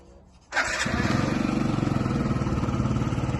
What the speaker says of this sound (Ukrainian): Так, зараз запустимо скутерок.